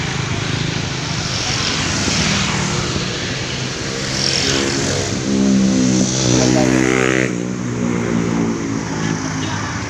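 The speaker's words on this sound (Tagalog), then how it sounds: "Mga malalaking truck at mga malalakas katakbo ng mga motor." Large trucks and loud motorcycles roar past on a road at night, a large engine rising and falling in pitch as it goes by, with a rough rumbling drone and faint voices.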